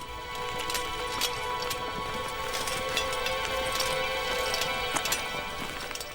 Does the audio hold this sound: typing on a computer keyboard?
no